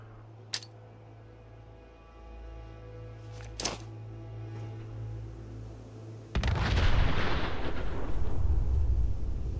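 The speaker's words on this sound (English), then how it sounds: "Okay, I have two nuke grenades." A nuke grenade explodes in the video game Fallout 4, a sudden loud roaring blast with a long rumbling tail after a few sharp game clicks and a low steady hum.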